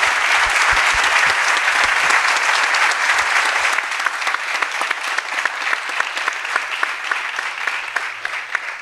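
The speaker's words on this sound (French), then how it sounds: "J'aimerais avoir une ronde d'applaudissements à mes panélistes" Steady applause from an audience for panelists at an inauguration event, dense clapping that continues throughout and thins slightly toward the end, with individual claps standing out.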